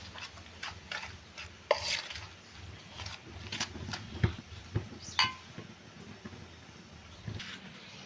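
Semolina and yogurt are mixed by hand for bhature dough, giving soft irregular rubbing and scraping sounds with occasional light knocks against the bowl, close up and without talk.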